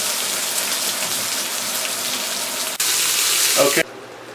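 Stuffed chicken breasts sizzle loudly in a frying pan, a steady crackling hiss broken by a sharp shift as a piece is turned, followed by a brief clatter and sudden quiet.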